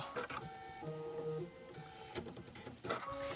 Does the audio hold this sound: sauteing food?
no